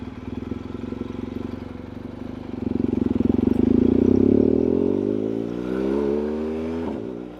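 A motorcycle engine on a ride around town, its throaty drone rising in pitch as the rider accelerates and then easing off. The engine is close and steady throughout, with no talk.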